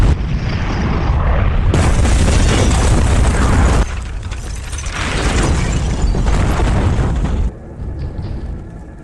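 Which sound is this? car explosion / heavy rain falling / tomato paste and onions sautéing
car explosion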